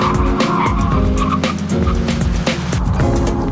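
An Opel Vectra brakes hard to a full stop while driving down an Alpine pass, its tyres squealing and skidding loudly and continuously over the engine's roar.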